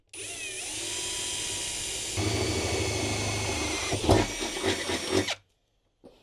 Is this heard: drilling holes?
yes